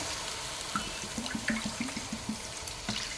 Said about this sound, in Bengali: তো এই দু কাপ চিনিতে এবারে আমি দেব তিন কাপ জল